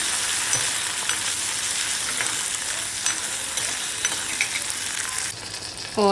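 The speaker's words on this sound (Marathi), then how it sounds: "हे आता चांगलं मिक्स करून घ्यायचं तिन्ही." Green chilies frying in hot oil and being stirred in a pan, a loud continuous sizzle with scraping of the spatula, close up and without talk.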